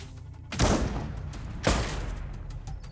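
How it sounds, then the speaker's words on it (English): Turrets fire in the video game Lost Skies, two sharp, heavy blasts about a second apart, each followed by a short rumbling tail over a low background hum. "There are turrets in here, so be advised to be ready for that."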